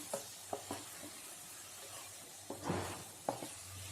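Spice powders, including coriander powder, roast in a pan for Mughlai mutton korma in a cooker, giving a quiet, soft sizzle under intermittent scraping and stirring taps.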